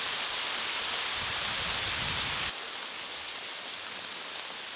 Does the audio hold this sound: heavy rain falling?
yes